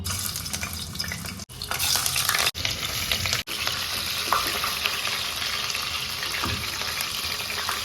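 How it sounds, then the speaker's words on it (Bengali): Meat frying in hot oil in a pan without salt or turmeric, a loud continuous close sizzle broken by a few brief gaps, with faint clatter of turning the pieces and no talk. "প্রথমে মাংসটা একদম নুন হলুদ ছাড়াই শুধু একটু হালকা করে ভেজে নেব"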